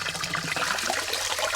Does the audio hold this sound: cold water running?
yes